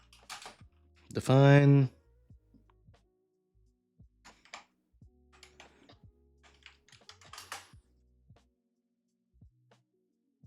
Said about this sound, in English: I can't type because my finger's in the wrong place.